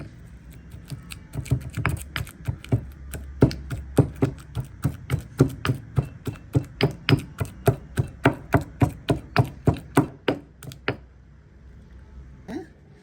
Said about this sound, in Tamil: இதுக்குள்ள நாங்கள் இப்போ ஒரு அரைக்கரண்டி கிட்ட பட்டரையும் போட்டு இடிப்போம்